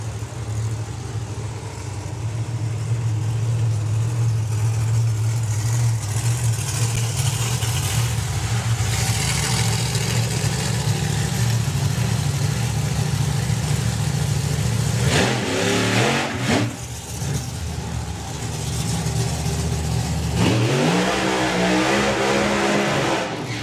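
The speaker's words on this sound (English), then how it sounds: "side by side, blower cars coming up" Supercharged blower drag racing cars sit side by side at the Summer Nationals, idling loudly with a lumpy rumble, then breaking into two sharp, rising revs near the end, close and powerful.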